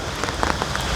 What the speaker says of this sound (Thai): โอ้ฝนตกอันนี้เนาะ